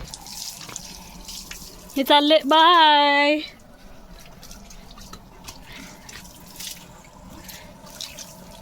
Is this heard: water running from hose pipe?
yes